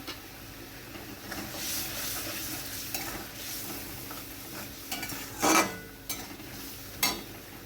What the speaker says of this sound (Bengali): লবণটা দিয়ে একটু খুন্তি দিয়ে নেড়ে নিলাম